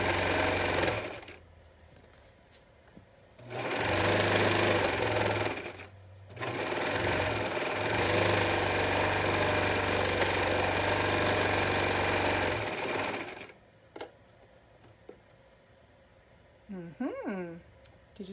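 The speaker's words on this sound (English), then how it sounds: "I am letting the serger trim a little bit off just because I like that edge to look nice" A serger overlock sewing machine stitching and trimming a fabric edge, running in loud continuous bursts separated by short pauses, then falling quiet with brief fabric handling and soft voice sounds at the end.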